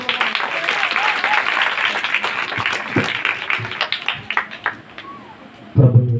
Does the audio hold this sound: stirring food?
no